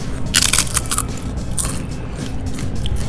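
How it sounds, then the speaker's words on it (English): Crunchy potato chips piled on barbecue chicken with barbecue sauce and ranch are bitten and chewed up close, giving a quick series of loud, crisp crunches. "That's tasty crunch. A lot of crunch."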